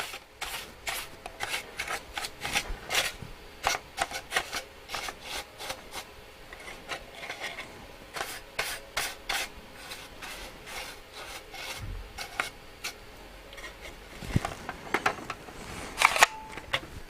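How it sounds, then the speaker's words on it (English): Brushing crumbled foam dust out of the inside of a Sony ICF-2001D radio, heard as quick, close, dry bristle strokes that rasp and scratch in a steady run. "There's some foam gone to dust inside there. Let's brush that out."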